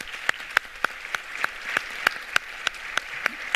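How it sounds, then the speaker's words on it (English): Audience applause at an agrifood conference session, with sharp, evenly spaced claps standing out close by over a softer spread of clapping from the crowd. "A big applause to all of us."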